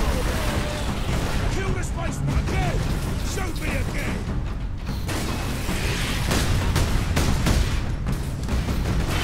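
Kraken Bolter gunfire in Warhammer 40,000 Space Marine, rapid bursts of sharp shots and mechanical clatter crowding the whole span, loud and dense amid battle noise, with a voice talking over it.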